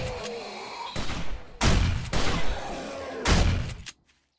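Several loud, sharp gunshot bursts ring out in the 7 Days to Die video game, spaced irregularly across a few seconds, each decaying into rumble before the sound stops.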